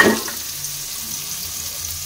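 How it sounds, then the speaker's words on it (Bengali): Steady sizzling of capsicum and beans frying in a pan, a soft continuous crackle with no voices. "ক্যাপসিকাম বিনস ভাজা হচ্ছে"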